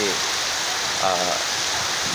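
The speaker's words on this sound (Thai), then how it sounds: "ฝนสาดครับผมตอนนี้ครับ" Heavy wind-driven rain lashes down in a steady, dense roar that fills the whole stretch, loud and close without letup, with a voice faintly mixed in.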